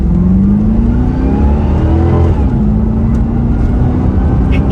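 A 1993 Chevrolet C4 Corvette accelerates from a steady cruise, its loud close engine note climbing in pitch, dipping briefly at a shift, then pulling hard again.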